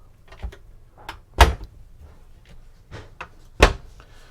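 Soft-close cabinet doors on a Hanse 548 yacht interior open and shut, giving a series of soft thuds with two stronger knocks, close and otherwise quiet.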